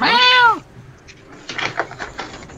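A cat gives one short, close, clear meow, followed by faint scattered knocks and rustling.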